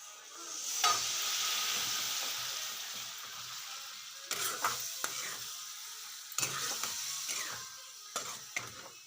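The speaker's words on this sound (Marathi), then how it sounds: "मस्त आपल्याला मसाले तळून घ्यायचे" Homemade masala paste of red chili powder, turmeric and ground spice blend frying in a pan for fish curry, a steady close sizzle with bursts of stirring and scraping as the paste is worked.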